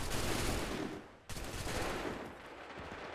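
Dense bursts of musket and rifle gunfire fill an Assassin's Creed III battle scene, with loud continuous volleys, a brief lull, then more sustained shooting.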